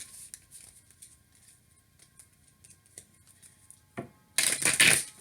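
Tarot cards are shuffled in one quick, crisp riffle near the end, close and fairly loud after a stretch of near-quiet.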